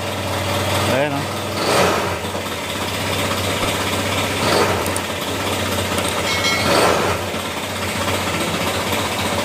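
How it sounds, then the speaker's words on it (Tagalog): A Honda Click 125 scooter engine with a damaged connecting rod idles and revs with a harsh rattling knock, close and loud, its pitch rising and falling, while someone talks over it. "damage na nga yung kanyang connecting rod, kalampag pa"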